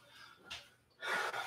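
A deep breath drawn in during a hot yoga class, as the body rises up from a forward neck and spine stretch. A brief soft breath is followed by a louder, fuller airy inhale that sounds close.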